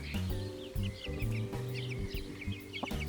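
Several six-week-old chickens cluck and chirp close by in a mix of low repeated clucks and higher peeps, overlapping without talk.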